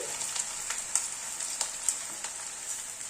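Onion slices frying in medium-hot oil give a steady, fairly faint sizzle with soft crackles and a few sharper pops scattered throughout, and no voices.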